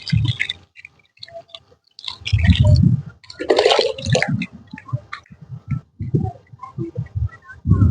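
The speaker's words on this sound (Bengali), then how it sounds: "এমন ভাবে জল দেবেন যেন নিচে ছিদ্র দিয়ে অতিরিক্ত জল বেরিয়ে যায়।" Water is poured into the soil of a potted mango plant in uneven splashes, gurgles and drips, close and moderately loud, with short pauses between the pours.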